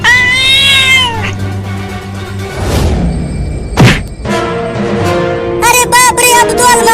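A cat meows loudly several times, with a heavy thump midway as a cupboard falls over and a burst of noise, then more drawn-out meows at the end.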